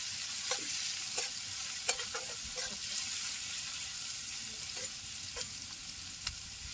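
Chopped onion fries in a pan over a strong flame for a sprouted moth bean dish, a steady broadband sizzle broken by a handful of sharp spoon-and-pan scrapes as it is stirred, close and without speech.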